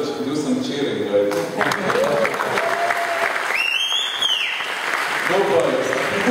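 An audience at a Startup Weekend event in Alexandria applauds and cheers steadily throughout, with a voice calling out over the clapping.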